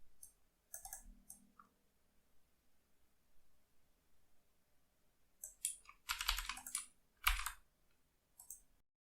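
Sparse bursts of keyboard typing on a computer, a few isolated clicks early, then a denser cluster of quick key presses near the end, close and quiet with no voices.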